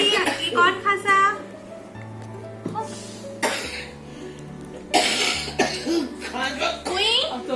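A child coughs a few times between bursts of adult talk, with a low steady hum underneath.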